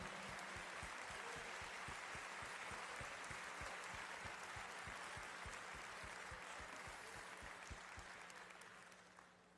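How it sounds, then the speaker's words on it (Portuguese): A church congregation claps together in sustained, dense applause, loud and even at first and then tapering off near the end. "Vamos aplaudir ao Senhor."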